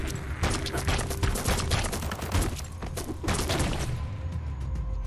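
Rapid gunfire in the video game Biomutant, a dense, loud barrage of overlapping shots and thumps that fills the whole stretch and eases slightly toward the end.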